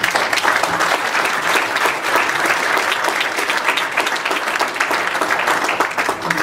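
An audience at a friendship dinner applauds loudly, a dense and steady wash of many hands clapping that holds for several seconds without pause.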